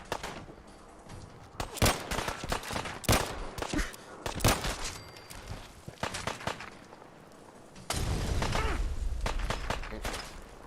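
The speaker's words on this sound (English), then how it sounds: "I somehow spawned on top of grenades." Gunfire and grenade blasts in the game Fallout 4, a chaotic string of sharp shots and bursts of varying loudness, ending in a sustained rumbling roar.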